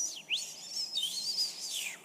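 Recorded dolphins whistle and chirp in high, sliding tones and quick sweeps, fairly faint against a quiet background, with no talking.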